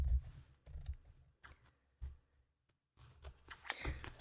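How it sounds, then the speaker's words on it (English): Scissors snip through patchwork fabric to cut out a pineapple shape, giving several short crisp cuts in quick bursts separated by brief pauses, close and fairly quiet. "I'm going to cut this pineapple shape out"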